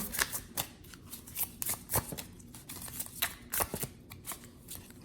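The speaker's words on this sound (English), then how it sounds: "let's do a realistic shuffle of these cards" A deck of slippery transparent tarot cards being shuffled by hand at close range, crisp riffling and sliding card noises in repeated quick bursts, steady and fairly loud with no talking.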